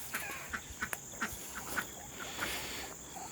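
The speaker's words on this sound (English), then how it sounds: "Duck, duck, duck, duck, duck." Ducks in a traditional garden give a series of short, soft quacks at irregular intervals over a faint outdoor background with insect-like buzzing.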